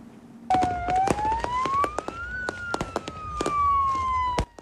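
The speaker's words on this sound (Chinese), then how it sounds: "消防车发出警报声" A fire truck siren wails and sweeps up and down while sharp firecracker bangs pop repeatedly over it, loud and close, on New Year's Eve at Nanliao Fishing Harbor in Hsinchu.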